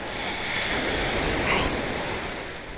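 Loud ocean waves wash steadily on a Maui shore, a continuous broadband roar of surf with a slight swell in the middle and some wind noise, no voices.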